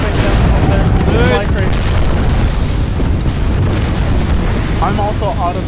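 Heavy, continuous booming from mortar strikes in Apex Legends, loud dense rumbling explosions rolling throughout with a voice talking over the blasts.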